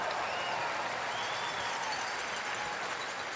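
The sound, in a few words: audience applause at a curling match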